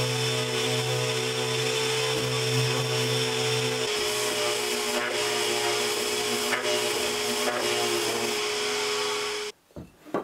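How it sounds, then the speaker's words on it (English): A power sander working over cut wooden components for a wine glass shelf, a loud steady motorized whine with abrasive rasping running nearly ten seconds before cutting off abruptly. "I'm going to give it all a sand down"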